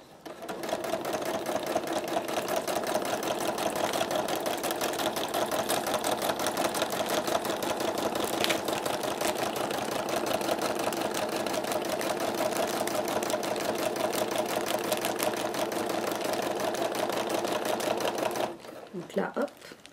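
Sewing machine stitching a quilted picnic blanket, running in a steady, continuous mechanical whir with rapid needle rhythm for most of the stretch, then stopping near the end; a voice talks over it.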